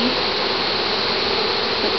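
Honey bees buzz steadily and densely around an open hive while a package of bees is installed, with close flybys passing near amid the constant swarm hum and no talk.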